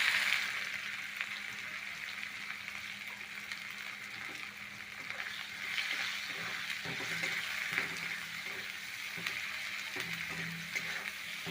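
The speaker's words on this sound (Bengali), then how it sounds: "তেল গরম হয়ে গেছে, দিয়ে দিচ্ছি দুটো কুচনো পেঁয়াজ।" Chopped onions fry in hot mustard oil in a pan, giving a steady, close hiss and sizzle with faint crackles and occasional stirring scrapes.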